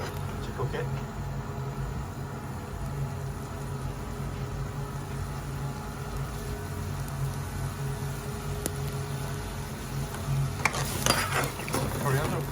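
A Chicken Madras sauce bubbles and sizzles in a hot takeaway pan as it is stirred over high heat, with a low steady cooking hiss, some scraping and a brief metallic clatter near the end, and faint voices.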